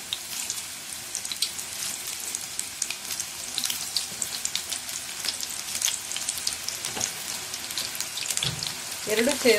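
Mushroom pieces frying in hot oil on a medium flame, a steady crackling sizzle with scattered pops and spits, fairly quiet and close, with a brief clatter near the end.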